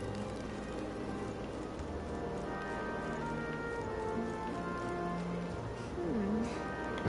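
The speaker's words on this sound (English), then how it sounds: "It's still raining outside." Steady rain falls outside in the video game Metaphor: ReFantazio on PS5, a continuous hiss of drops under faint tonal game sounds, with a brief swooping tone near the end.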